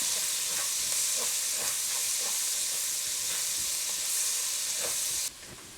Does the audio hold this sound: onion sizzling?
yes